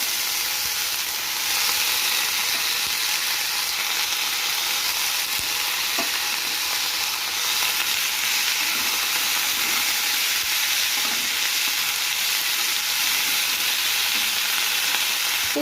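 Banana flower sizzles and crackles steadily in a pan with fried spice paste of turmeric powder and salt, a continuous loud frying hiss with faint occasional stirring and no talk.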